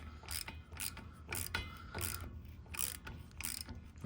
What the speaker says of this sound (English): So I'm gonna go ahead and clean these out so we can get these threaded in nice and easy.